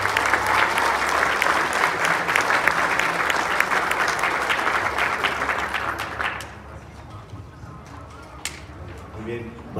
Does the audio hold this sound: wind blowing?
no